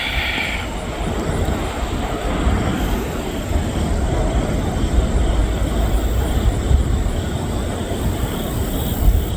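CSX freight train passing in Walton, a loud, steady rumble and rolling roar of wagons close by, continuing without a break and with no talk.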